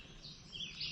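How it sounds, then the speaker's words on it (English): Faint birdsong drifts along a wooded hiking trail, with a few thin, high chirps and short warbles rising over a soft, steady outdoor hush. "I don't hear anything but birds."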